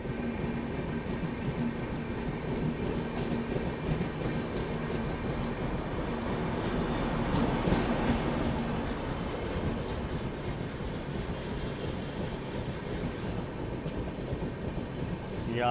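The New Delhi–Bhubaneswar Duronto Express rolls along the track with a steady, close rumble and faint clattering wheel noise that continues unbroken throughout.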